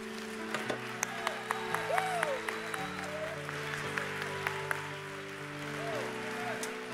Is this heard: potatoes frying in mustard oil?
no